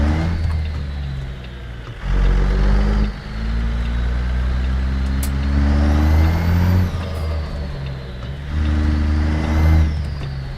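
A Peterbilt 389 truck engine in a driving game drones loud and close, revving up and settling through gear changes with double clutching, and a brief air hiss near the middle.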